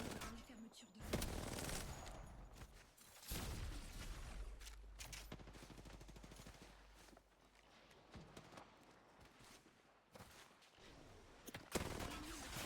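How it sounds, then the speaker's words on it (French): Gunfire in a shooter video game played with no aim assist, bursts of rapid shots and impacts recurring across the span alongside footsteps and other game effects, fairly loud and up close. "Je tire sur les ennemis."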